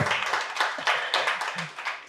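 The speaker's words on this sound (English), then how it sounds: "So one round of applause for the career gap." Brisk, uneven clapping from a small group of hands, steady for a couple of seconds with a faint voice murmuring underneath.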